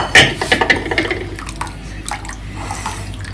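Water strained out through a large sieve into a vessel while preparing a home remedy with garlic and onion, heard as a close trickling pour that starts splashy, then settles into a steady light flow.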